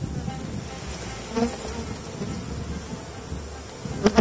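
Honeybees buzz densely and continuously as they are brushed off a hive frame during swarm-prevention work, with a couple of soft knocks from the frame handling partway through and near the end.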